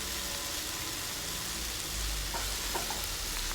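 Honey garlic prawns simmering in sauce over a low flame give a steady, close sizzle with soft bubbling and light crackle, constant throughout and with no voices.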